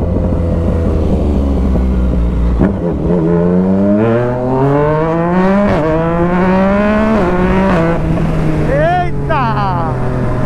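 A brand-new Yamaha MT-09 motorcycle fitted with a Jeskap exhaust idles, then revs hard in rising sweeps that climb and drop repeatedly, loud and close, with a brief voice near the end.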